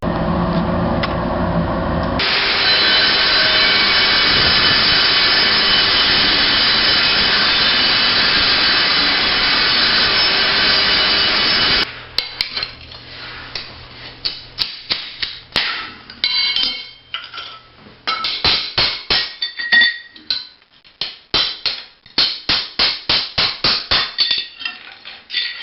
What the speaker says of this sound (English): What I refer to as a concrete saw is really an angle grinder with a 7 1/4 inch diamond tipped blade.